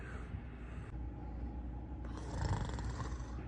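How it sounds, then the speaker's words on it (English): A sleeping person snores in bed, a low rough rumble building in the latter half over a constant background hum, moderately close and fairly soft. "You're snoring."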